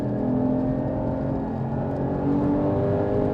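A Porsche Cayman 981 GT4's engine drones loud and steady on a race track after a downshift into third, a continuous throaty roar with slight rises in pitch as it pulls through the corner.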